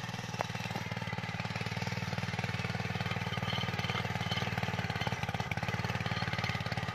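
A Trâu Vàng two-wheel walking tractor engine runs steadily nearby in hot weather, a loud rapid single-cylinder chug that holds an even pace throughout with no talk over it.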